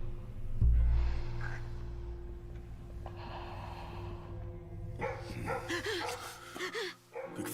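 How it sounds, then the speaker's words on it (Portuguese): Dogs bark and yip in short bursts, with a thump early on and whimpering, excited vocalizations toward the end. "Quando ela ouviu os cachorros latirem"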